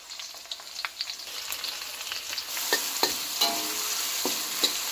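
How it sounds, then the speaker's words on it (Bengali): Chopped onions, about a cup, frying in oil with salt until brown, a steady close sizzle with scattered clicks and scrapes of stirring, growing denser and louder partway through. "এবারে পেঁয়াজ কুচি দিয়ে দিব এক কাপ মতো পেঁয়াজটা ব্রাউন কালার করে নেব"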